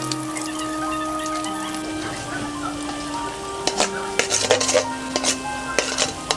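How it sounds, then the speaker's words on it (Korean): Steady hiss of battered meat frying in hot oil throughout, with clinks of utensils and pans building toward the end; no talking. "옷을 두껍게 입은 고기들은 이제 뜨겁게 달궈준 기름 속으로 들어가게 되는데"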